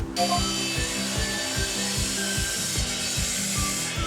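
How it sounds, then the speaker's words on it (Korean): A brick cutting machine cuts brick, grinding steadily with a dense, harsh drone and a repeating low thumping pulse, loud and close, no voices. "이제 벽돌을 자르기 위한 벽돌 그 가공기입니다."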